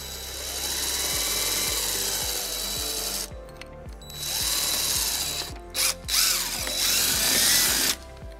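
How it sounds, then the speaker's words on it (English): A cordless drill with a 3/16-inch bit whirs in repeated bursts, pausing between runs, with the motor straining and clicking as it bores through a 2018 Toyota RAV4 bumper. "using a 3/16 drill bit, we're gonna drill our first hole"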